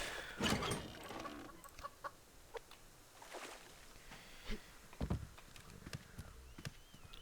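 A chicken clucks in short intermittent bursts in the survival game Subsistence, with scattered soft knocks and footsteps between, quiet and fairly close with no talking.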